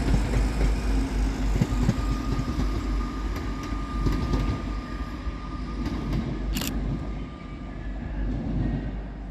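Transport for Wales unit 175002 pulls out of Crewe station on the 0810 Manchester Piccadilly to Carmarthen service, a steady low diesel rumble with rolling wheel noise that stays loud throughout and eases slightly near the end.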